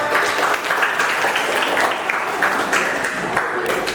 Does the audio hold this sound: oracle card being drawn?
no